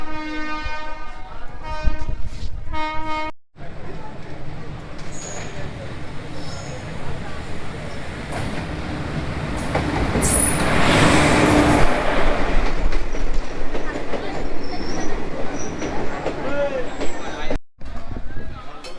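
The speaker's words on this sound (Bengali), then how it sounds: "চলুন ট্রেন ঢুকছে ট্রেনে উঠুক" The Sahebganj–Howrah 13428 Intercity Express pulls into Rampurhat station. A loud horn blast opens, then a long rumbling roll of wheels and cars grows louder toward the middle, with a voice speaking over it at times.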